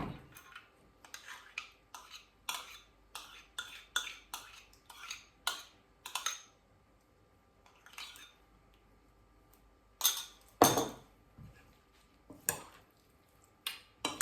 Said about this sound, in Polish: i mieszamy do połączenia się składników